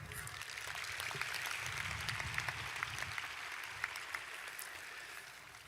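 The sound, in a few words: audience applause at a commencement ceremony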